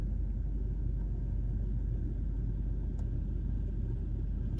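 A truck engine idles with a continuous low, even rumble, close and steady, with one faint click partway through and no voices.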